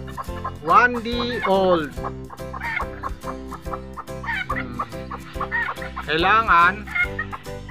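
Newborn one-day-old Serama bantam chicks chirp in high, repeated peeps, bursts of sliding cheeps close by, while a person speaks briefly in the background.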